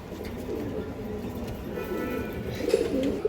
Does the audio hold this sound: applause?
no